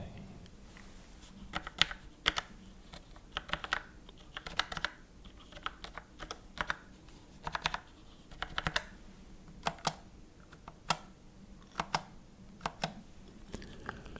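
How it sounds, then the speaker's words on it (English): Typing on a Logitech keyboard with deep key travel, a steady run of close, crisp clicky keystrokes in irregular bursts, with no talking. "a Logitech keyboard, that I use. Let's see what it sounds like for today."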